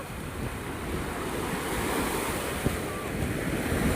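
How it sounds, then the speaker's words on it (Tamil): Big sea waves crash on the shore in a continuous loud roar of surf, mixed with wind buffeting the microphone. "ரொம்ப பெரிய அலை வந்துருச்சு"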